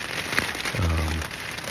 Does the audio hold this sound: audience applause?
no